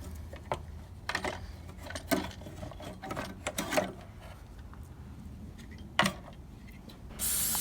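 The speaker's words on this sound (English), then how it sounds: "I'm spraying it off with brake clean" Short hissing bursts of brake cleaner are sprayed onto the coil area of a Mk4 Jetta engine, irregular spurts mixed with handling clatter, close and fairly loud.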